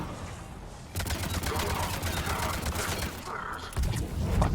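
Rapid sustained gunfire from the video game Mass Effect 3, a dense rattling stream of shots that starts abruptly and continues for several seconds, with a heavier low burst near the end and a voice talking faintly beneath.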